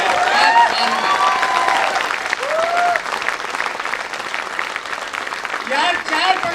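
Sustained, loud audience applause fills a Hindi poetry recital (kavi sammelan), with scattered voices and cheers rising over the clapping throughout.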